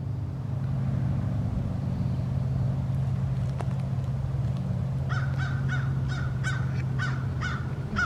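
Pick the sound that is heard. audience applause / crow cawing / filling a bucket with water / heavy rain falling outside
crow cawing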